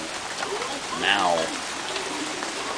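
Steady rain patters in the background in Colorado while a voice briefly speaks over it.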